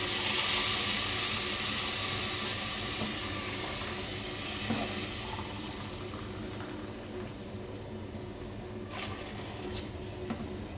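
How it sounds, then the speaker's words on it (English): Four cups of water pour steadily into a pot holding two cups of rice, a continuous hissing splash that is louder at first and then settles into a softer, even stream. "I'm going to be putting 4 cups of water"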